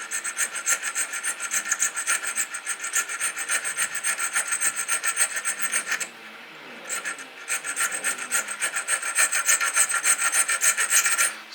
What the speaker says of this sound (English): So I'm just trying to file this